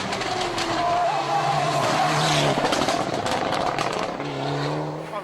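Subaru WRX STI rally car at the 2010 Rally of the Canary Islands, engine note rising and falling as tyres squeal and skid through a stage, with a commentator talking over the loud passing car.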